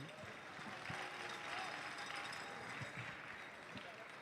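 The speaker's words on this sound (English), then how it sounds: "Can we get a round of applause to Qualcomm?" A large audience applauds steadily at a FIRST robotics district competition in Troy, a sustained wash of clapping that stays fairly even throughout.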